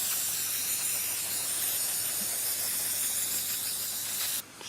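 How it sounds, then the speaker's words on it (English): Brake cleaner sprayed from an aerosol can onto new, oil-coated front brake rotors of an Audi Q3, a steady close hiss lasting several seconds before cutting off sharply. "we're going to take some brake cleaner and spray these off"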